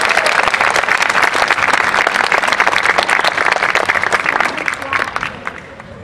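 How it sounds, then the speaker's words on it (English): Dense, sustained applause from a school audience at a middle school 50th anniversary showcase, loud and continuous for several seconds before thinning slightly at the end. "Could you please give her another round of applause?"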